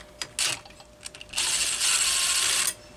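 Wrench working the center nut on a Homelite Super XL chainsaw: a few short scraping clicks, then a longer ratcheting rasp lasting over a second, close and fairly loud, with no voices.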